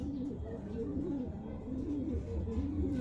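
Pigeons in a racing loft coo in low, repeated throaty rolls, close and continuous, with someone talking faintly in the background.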